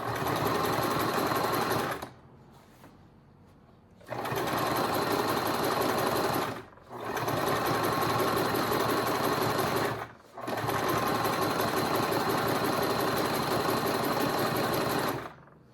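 A sewing machine stitches a reinforcing seam on a strap, running loud and close in four steady bursts, pausing briefly between runs.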